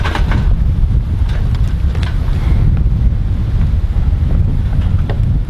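Strong gusting wind buffets the microphone outdoors at an off-grid homestead as rain threatens, a steady loud rumble with broadband roar and no speech.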